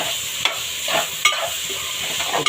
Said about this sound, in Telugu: దొండకాయలు బాగా ఫ్రై అవుతాయి